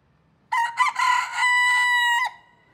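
A broiler-variety rooster crows once, a loud close crow with a rising start and a long held note, ending abruptly.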